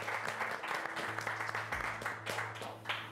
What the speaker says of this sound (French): le jury peut aussi les applaudir